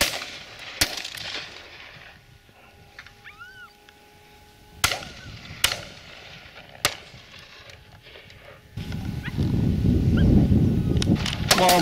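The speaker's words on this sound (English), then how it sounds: "Nice shot there, Shaky." Shotgun shots at a driven partridge shoot ring out as four sharp, separate bangs over quiet open-air ambience, followed by a stretch of loud rumbling wind or handling noise.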